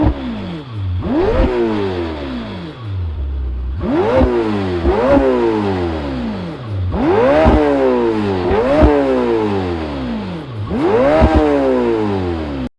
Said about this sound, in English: Now the engine sounds rather nice, at least according to the engine sound on Lamborghini's website